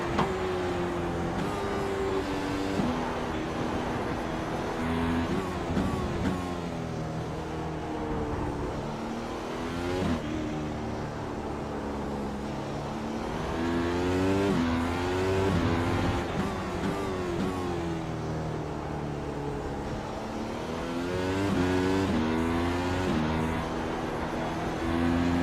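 A McLaren MP4-30 Formula 1 car's engine at Interlagos in iRacing rises and falls through repeated high revving sweeps and gear changes, easing slightly on a lift, loud and continuous.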